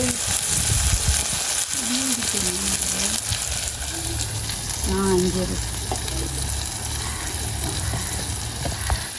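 A slit green chilli fries in a pan of onion for a Jaffna-style fish curry, making a continuous broad sizzle with some stirring, while a voice briefly hums or speaks over it.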